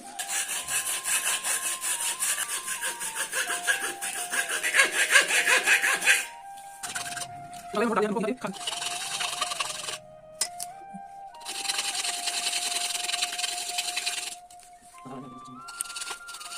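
Hacksaw blade cutting through a pile of coins, a steady rasping stroke that runs in long bursts with brief pauses between them, close and loud, with no talking.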